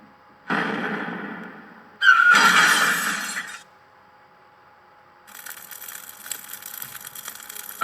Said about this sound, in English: Oh no. The train crashed.